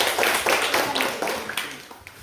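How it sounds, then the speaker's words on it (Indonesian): Hand clapping from a classroom group during a teacher coaching session, a brief dense patter of many hands with a few sharper claps standing out, steady and fairly close. "Beri aplaus, tepuk tangan."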